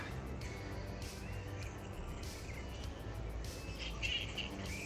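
A colony of bats in Parramatta, Sydney, gives faint, distant high squeaks and chirps that scatter over a steady outdoor hiss, with no talking.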